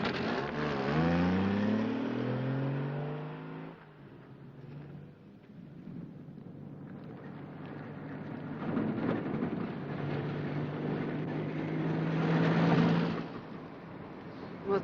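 An old car pulls away with a revving engine that rises, fades briefly, then swells again as it drives off, heard over a low background rumble with no voices.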